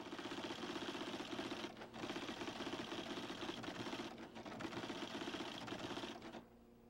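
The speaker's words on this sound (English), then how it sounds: "You are watching two automatic typewriters in action." Two Xerox automatic typewriters type at high speed, a dense, rapid mechanical clatter that runs continuously with two brief pauses and stops near the end, moderately loud with no voices.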